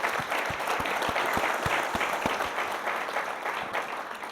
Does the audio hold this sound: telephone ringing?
no